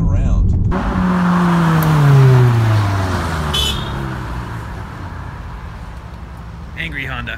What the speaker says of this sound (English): Here's an example of a few cars I just saw driving around.